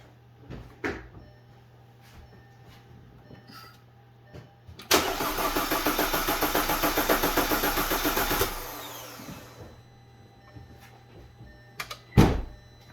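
A 2010 Audi A4 2.0T engine cranks on the starter for a compression test, a loud, rhythmic churning burst of a few seconds between quiet clicks and handling noises.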